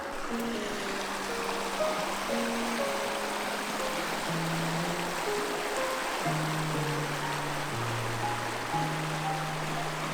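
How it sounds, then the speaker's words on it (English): A river in Yosemite Valley in winter flows with a steady rushing murmur, while a low engine-like drone with shifting tones hums underneath. "the sound of the river"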